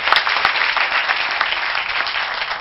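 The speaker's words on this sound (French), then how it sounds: "Donc pour ça, on va l'applaudir." Steady applause from an audience at a French-language TV show, a dense continuous patter of many hands clapping, fairly loud and close.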